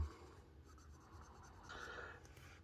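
Pelikan Pelikano P480 fountain pen with a medium steel nib writing on paper, a soft continuous scratchy glide close up, swelling slightly toward the end, with no talk.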